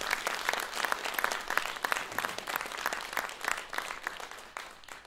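An audience claps steadily at the start of the Vánoce pro radost Christmas concert, a dense, even patter of many hands that fades slightly toward the end, with no talking over it.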